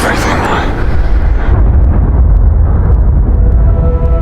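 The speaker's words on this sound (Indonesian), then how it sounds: "bom pun akhirnya meledak" A loud, rumbling explosion roars and sustains, with a deep low-end boom and crackling noise throughout.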